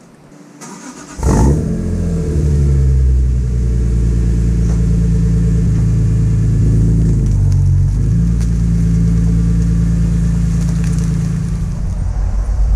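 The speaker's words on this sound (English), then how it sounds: "I'm going to start it up, check for leaks, and see how it sounds" A BMW E46 M3 engine with a new quad exhaust cranks and catches about a second in, then settles into a loud, deep, steady idle with a brief rev dip midway.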